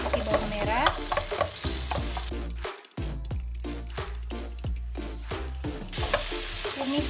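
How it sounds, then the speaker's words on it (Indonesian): Garlic and shallots frying in Blue Band margarine in a pan, a loud steady sizzle with repeated stirring scrapes and knocks of a spatula, a short dip in the sizzle partway through, and no voices. "saya panaskan sedikit blue band, masukkan bawang putih, bawang merahnya"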